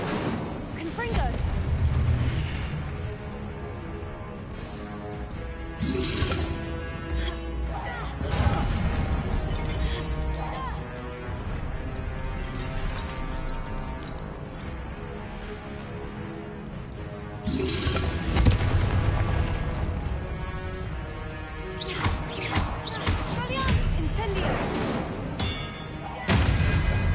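Spell blasts and explosions from the Hogwarts Legacy video game burst repeatedly as loud crashing booms and shattering hits, mixed with game music and spoken voices throughout.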